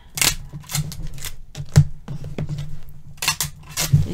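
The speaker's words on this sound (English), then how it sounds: "Hold it and tape it" Adhesive tape being pulled and pressed onto a package, in a series of short crackly rips and taps at irregular intervals, close by and fairly loud.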